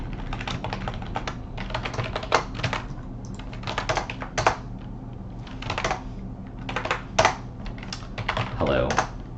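Rapid, irregular clatter of typing on a computer keyboard while entering code, close and steady with brief pauses between bursts of keystrokes.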